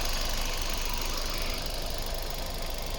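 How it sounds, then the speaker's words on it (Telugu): A 2017 Hyundai Grand i10 Sportz petrol engine idles with a faint, steady hum and light even ticking, no voices over it. "ఇంజన్ సౌండ్ కూడా చాలా నీట్గా ఉంది."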